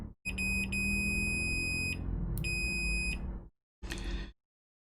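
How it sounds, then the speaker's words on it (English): A multimeter in continuity mode gives a loud, steady high-pitched beep when its probes touch, cutting out briefly twice, then stopping and sounding once more as a short final beep, heard close with no talking. "Your two probes should beep when you touch them together."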